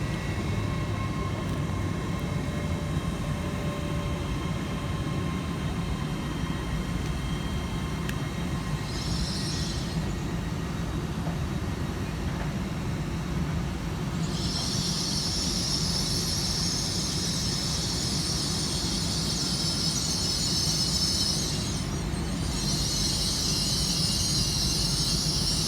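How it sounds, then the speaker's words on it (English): A Class 802 TransPennine Express train arrives at Liverpool Lime Street, a steady loud rumble of wheels and engine throughout with bursts of high-pitched squeal midway and toward the end. "we see the arrival of 802-219 working the 1114 TransPennine Express service at Liverpool Lime Street through to"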